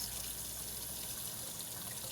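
Hot water pours steadily from a tap into ice cube trays, a continuous, even hiss of running water at constant volume with no pauses.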